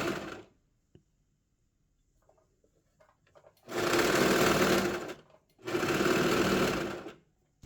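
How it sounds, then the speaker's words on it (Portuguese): A sewing machine stitches a fabric dog sweater in two sustained runs of steady, fast mechanical whirring, close and loud, separated by pauses with faint handling clicks. "Vem costurando assim, ó, devagarinho, esticando, firmando um pouquinho a parte das costas."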